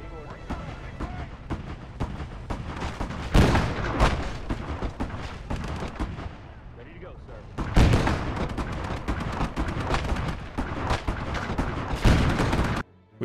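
Rapid bursts of gunfire from an armored vehicle in a World War II hedgerow battle video game ring out loud and close. Heavy booming shots come in clusters, with a short lull in the middle.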